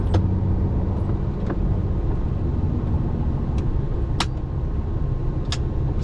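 A car creeps slowly into a tight parking area, its low engine rumble steady and close, with a few faint short clicks and squeaks scattered over the hum and no talking.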